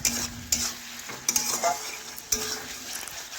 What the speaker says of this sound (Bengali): আলুগুলি এখন নাড়াচাড়া করে একটু কষে নিচ্ছি।